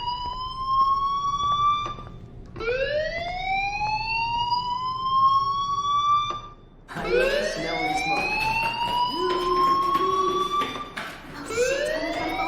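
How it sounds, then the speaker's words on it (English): Fire alarm in the video game Life is Strange, sounding as repeated rising wails, each sweep climbing and holding, with a brief dip in between and continuous loud cycles throughout. "do you hear that fire alarm? That means you should be outside."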